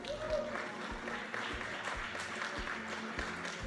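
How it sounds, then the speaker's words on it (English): Audience at a parliamentary economic forum in Marrakesh applauding, a faint, steady patter of clapping from a crowd heard at a distance throughout. "Let's give them a round of applause."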